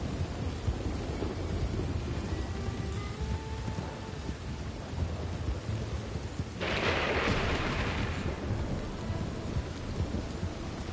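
Steady rain and rolling thunder from a storm in Red Dead Redemption 2, a dense constant downpour that swells into a louder, brighter burst of rain and rumble partway through, with no talking.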